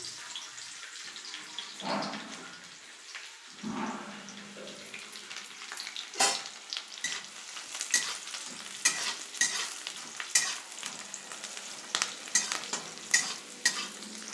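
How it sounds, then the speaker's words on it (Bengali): Hot oil sizzles and crackles steadily as garlic fries, with scattered sharp pops and a few utensil scrapes, close up and with no voices. "তেল গরম হয়ে গেছে, রসুনটা দিয়ে দিলাম।"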